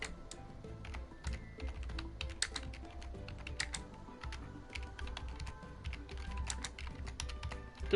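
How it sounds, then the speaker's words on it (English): Rapid, continuous tapping of keys on a computer keyboard, close and fairly loud, with irregular clusters of clicks over a low background hum and no speech. "Don't I just love the sound of my keyboard?"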